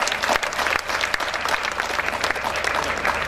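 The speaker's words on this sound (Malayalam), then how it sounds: "ഒരു കയ്യടി അദ്ദേഹത്തിന് കൊടുക്കുക." Audience applause for Dr Rajendran at the Agrifiesta 2014 closing ceremony, dense and steady clapping from a large crowd that holds an even level throughout without letting up.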